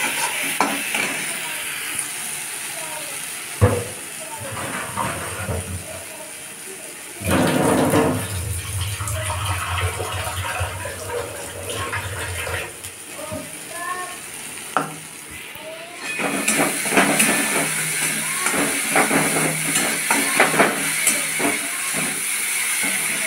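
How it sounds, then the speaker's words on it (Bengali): Spice paste for a rohu fish curry with cashew paste and yogurt frying in a pan and stirred repeatedly, a persistent hissing sizzle with recurring scrapes and clatters, growing louder and steamier toward the end, with no talking. "দেখো মশলা থেকে তেলটা ছাড়তে শুরু করেছে, আমার মশলাটা ভালো কষানো হয়ে গিয়েছে।"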